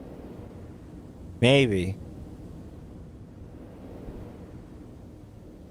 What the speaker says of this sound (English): Okay, so it's fucking windy.